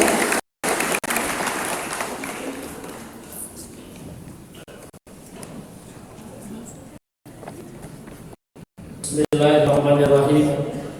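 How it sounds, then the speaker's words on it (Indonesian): Audience clapping at an inauguration ceremony for a regional organization board in Tasikmalaya, scattered applause that fades before a louder, fuller burst near the end, with a voice on a loudspeaker over it. "Boleh tepuk tangan yang meriah buat ketua kita."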